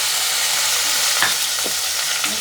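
Mustard seeds hit hot coconut oil in a pan, giving a loud, steady sizzle broken by a few sharp pops and crackles.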